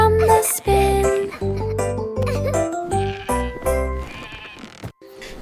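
Sheep bleat repeatedly within a children's nursery rhyme song, a series of loud, wavering bleats in quick succession, broken by short pauses.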